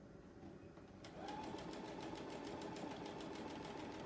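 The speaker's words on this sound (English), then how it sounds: "I'm just quickly going down the seam." A sewing machine running a quilt square's quarter-inch seam: quiet at first, then the motor starts with a rapid, even mechanical chatter of stitching that continues steadily, close and fairly faint.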